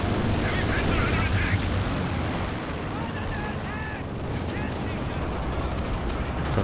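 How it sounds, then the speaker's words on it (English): Howitzer artillery fire in Company of Heroes 2 during a 4v4 match on the Redball map: a dense, continuous roar of booming shots and rumbling battlefield noise at steady loudness throughout. "now howitzers are coming in this area"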